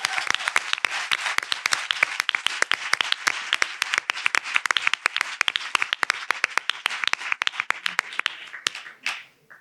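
Audience at a podcasting event gives a podcaster a long round of crisp, close applause, many sharp individual claps forming a continuous patter that thins out toward the end.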